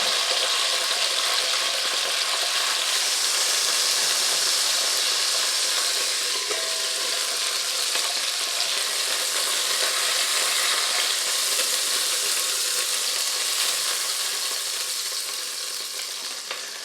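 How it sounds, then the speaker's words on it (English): Pork chops searing in oil in a Dutch oven, a loud steady sizzle and hiss that runs on without pause and has no voices over it. "So I'm going to go ahead and sear these on both sides and then remove them from the pan."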